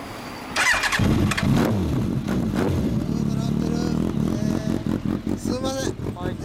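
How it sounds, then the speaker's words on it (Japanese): A 2000 Kawasaki Ninja ZX-12R fitted with a Trick Star muffler fires up after a brief quiet moment, then settles into a close, loud, throaty idle with a few sharp revs near the end. "エンジンを聞かせてもらえますか"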